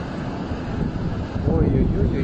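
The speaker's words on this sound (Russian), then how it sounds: "Еще и ветер начинает это затягивать, создается какая-то воронка" Strong wind roars during a Siberian forest fire, a dense, rumbling buffeting close to the microphone, steady and loud, with a voice faintly present in the mix.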